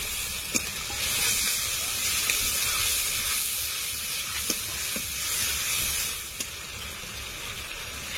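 Cumin paste and dry red chilli paste hitting a pan with a splash of spice-rinse water while cooking katla fish curry with potatoes, giving a steady broadband hiss and sizzle throughout with a few faint clicks, no talk.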